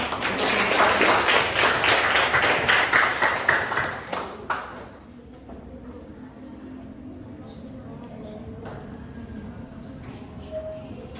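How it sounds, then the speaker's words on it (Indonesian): Applause from a group fills the first four seconds, loud and dense, then fades out into quiet room noise with faint murmurs. "Tepuk tangan."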